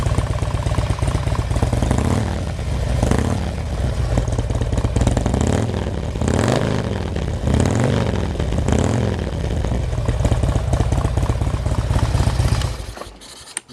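A motorcycle engine idles with a loud, throaty rumble, then is revved several times in quick bursts before cutting off abruptly at the end.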